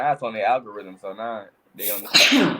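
A person sneezes loudly once, a sharp burst right after casual conversation, with people talking just before it.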